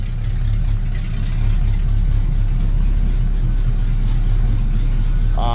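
A 1984 Oldsmobile Cutlass with a freshly tuned carburetor idles steadily with the choke off, its smooth, even low rumble close and continuous throughout, with no talking.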